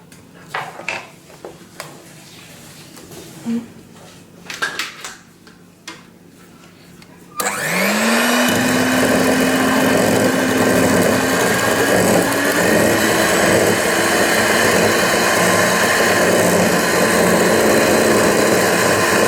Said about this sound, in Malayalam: ഇനി നമ്മൾ കയ്യിലുള്ള ബീറ്റർ വെച്ച് ഇതൊന്ന് നല്ലവണ്ണം ബീറ്റ് ചെയ്യണം.